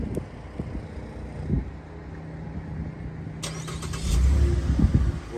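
A 2018 Chevy Impala starts up by remote start, heard from nearby: a low idle rumble with a few clicks and thumps, then the engine catches and grows louder near the end, with no one speaking.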